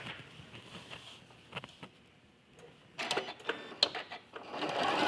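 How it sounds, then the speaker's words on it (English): A sewing machine stitches the last log onto a quilt block, its motor whirring in short bursts with small pauses, then running faster and louder toward the end, close by with no talking. "So we're going to take this piece to the machine, and you're going to stitch the last log on."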